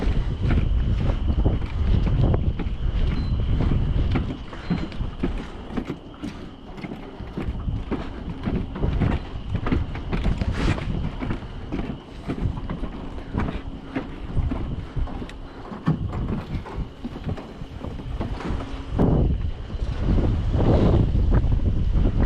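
Strong gusting wind buffets the microphone continuously with heavy, uneven roaring, and water and a fishing boat sound faintly beneath it on Deep Creek Lake.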